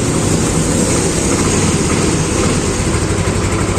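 Yamaha Mio scooter engine after an error 28 repair, heard running at a steady loud idle with a constant low rumble and no breaks.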